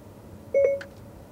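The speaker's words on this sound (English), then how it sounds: "when you hear the beep, you can say drive home" Short electronic beep from a Lexus steering wheel talk switch with Apple CarPlay, a single clear tone with a brief higher chirp, heard alone in a quiet car cabin.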